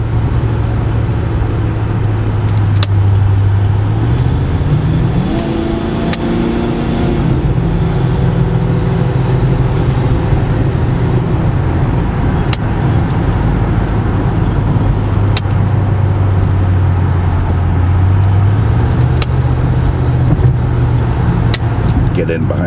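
A 1985 Cadillac Eldorado Touring Coupe cruises through traffic with a constant close engine drone that climbs and falls through gear changes, with road and wind noise and a few sharp clicks. A voice speaks briefly over the car.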